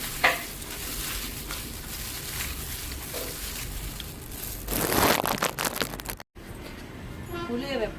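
Wet squelching and crunching of prawns and spices being mixed by hand, with a brief louder stretch of rustling near the end.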